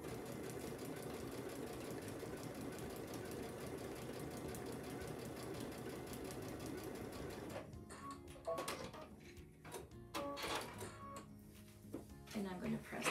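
A sewing machine stitches a quilt panel with a steady mechanical whir for several seconds, then stops and restarts in short bursts, close and fairly quiet, while someone talks.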